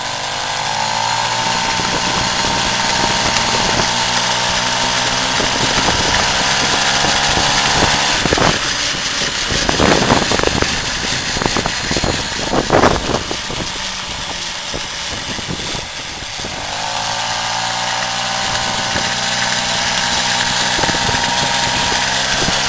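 A Motobecane Mobylette moped with automatic clutch runs steadily while riding, its small high-pitched engine droning loud and close, briefly rising and wavering in the middle before settling back to a steady buzz.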